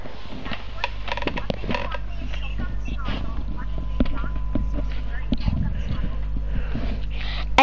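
Horse hooves clip-clop in an uneven trot alongside video game effects, with people talking over the top.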